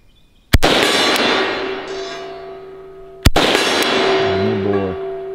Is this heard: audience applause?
no